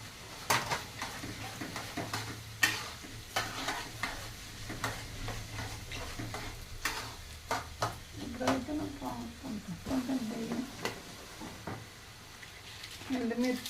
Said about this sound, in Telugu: పోపు దినుసులు